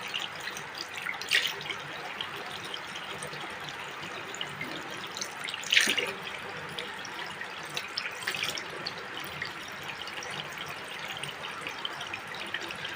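Water running steadily from a tap while someone washes their face, a soft continuous trickle with a few louder splashes, close and fairly quiet, no talking.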